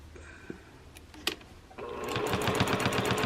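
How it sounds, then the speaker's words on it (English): A sewing machine stitches a rooster collage wall hanging. After about a second and a half of quiet handling and a couple of soft knocks, it starts up close and loud in a steady, fast, rattling whir. "I'll just come down here and start stitching."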